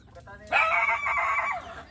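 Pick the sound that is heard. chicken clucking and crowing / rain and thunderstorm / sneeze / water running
chicken clucking and crowing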